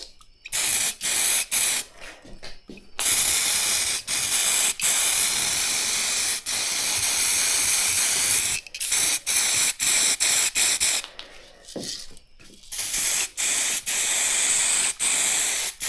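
An aerosol spray paint can hisses in repeated bursts onto a car panel, loud and close, with short pauses and faint rattling between sprays.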